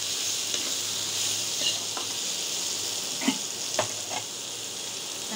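Eggplant slices frying in a pan, a constant hissing sizzle of oil heard up close, with a few soft clicks and knocks from stirring or handling the pan, no voices.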